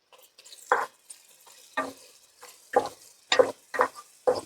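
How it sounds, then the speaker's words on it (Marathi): Ground masala paste for a spicy village-style crab curry sautéing in a pan, heard as a series of distinct scraping stirs roughly every half second to second over a soft background sizzle, close and clear with no talking. "मसाला ही दोन ते तीन मिनिट व्यवस्थित परतवायचं"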